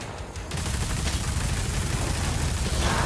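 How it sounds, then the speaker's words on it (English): Impaler bolt gun from DOOM: The Dark Ages fires in a dense, sustained burst of loud gunfire that starts after a brief quieter lead-in and carries on steadily throughout. "it's the Warhammer bolt gun. I mean, it's the Impaler is what it is."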